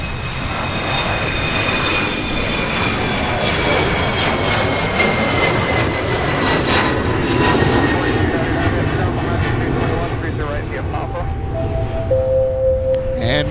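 Jet airliners taxi and fly at Minneapolis–Saint Paul airport, a loud, sustained engine roar with a whining tone that slowly shifts in pitch, joined near the end by faint radio-like chatter.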